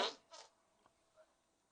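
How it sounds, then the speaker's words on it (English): A loud, close fart bursts out at the start, followed by a couple of fainter little puffs. "You need to not be eating any more fart bars."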